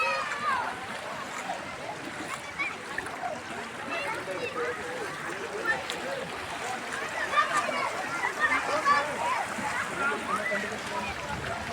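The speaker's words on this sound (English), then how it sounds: "Children are enjoying the water. This is a flooded road." Children splash and play in floodwater covering a road in Nairobi's Mukuru kwa Reuben area after heavy rains. Irregular sloshing and splashing runs throughout at moderate distance, mixed with voices and background chatter.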